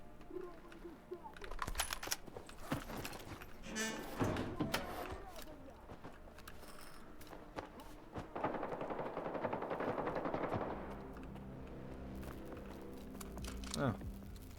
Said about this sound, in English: What are they all shooting at?